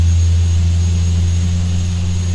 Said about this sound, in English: This must be the right way if the jet's coming up behind us.